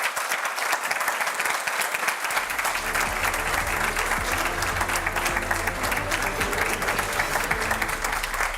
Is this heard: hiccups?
no